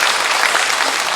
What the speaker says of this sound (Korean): 우리 이분들 환영의 박수를 보내도록 합시다.